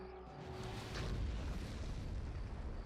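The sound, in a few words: bombing run explosions in video game Star Wars: Empire at War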